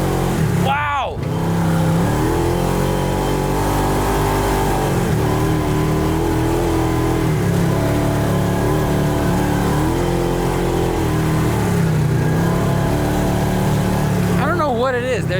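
A Hellwig-equipped Ford F-350 drives hard off-road on dusty ground, its engine droning steadily loud and close with wheel spin, under people talking and exclaiming.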